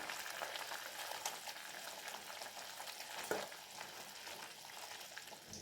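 Tamil fish curry (kara podi meen kulambu) bubbling in a pan as fish pieces go in and are gently mixed, giving a steady close sizzle and a brief clunk partway through.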